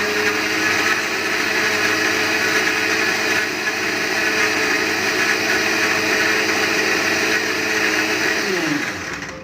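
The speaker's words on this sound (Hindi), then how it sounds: "इसको हम अच्छे से पहले क्रश कर लेंगे" An electric blender crushes Oreo biscuits with sugar for an Oreo shake, a loud, steady motor whine with grinding rattle that holds for about nine seconds, then winds down and stops at the end.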